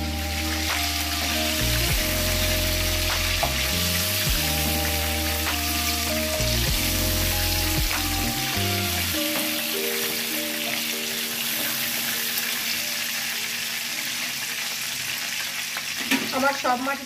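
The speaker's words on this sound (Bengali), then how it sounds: "একইভাবে ম্যারিনেশন করে রাখা যে মাছগুলো আছে সেই মাছগুলো আমি ভালো করে ভেজে নেব।" Marinated prawns frying in hot oil in a pan, a loud steady sizzle with stirring and clattering utensil scrapes, easing to a softer hiss in the second half.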